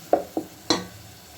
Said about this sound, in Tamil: நம்ம போட்டிருக்கிற மசாலா நல்லா வதக்கிக்கோங்க